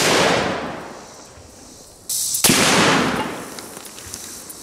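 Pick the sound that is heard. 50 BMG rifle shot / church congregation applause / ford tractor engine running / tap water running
50 BMG rifle shot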